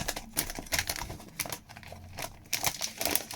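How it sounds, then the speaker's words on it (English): A blade cuts the packing tape on the box of an Inno18 Nissan Skyline R34 Silhouette 1:18 scale model car, with crinkly tearing and rustling in short bursts, close up and with no voices. "Cut the tape."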